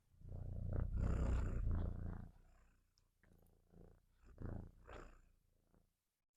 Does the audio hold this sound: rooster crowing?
no